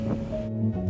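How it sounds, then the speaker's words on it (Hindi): A mixer grinder runs with one cup of semolina in its grinder jar, giving a loud, steady motor whir and gritty rushing noise that holds throughout without pause. "हम ग्राइंड कर लेंगे।"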